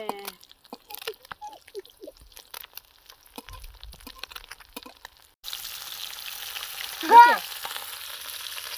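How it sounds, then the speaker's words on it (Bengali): Fish cooks in a pan for a Bengali-style fish dish. After scattered soft clicks, a steady broadband sizzle and bubble starts partway through and continues close and even, with one brief sharp squeal. "মাছটা খুব ফুটছে"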